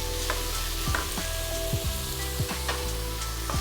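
Carrots and beans fry in a pan for chicken fried rice, giving a steady, close sizzle broken by a few stirring clatters and spatula knocks, with no talking.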